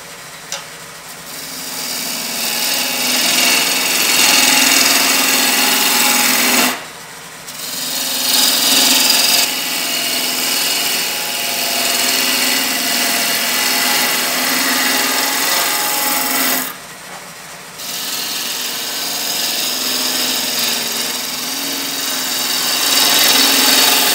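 A wood lathe turns a cube at about 1,000 RPM, giving a loud, continuous rasping hum with a faint rhythmic pulse as a tool cuts the spinning block, broken by two brief pauses.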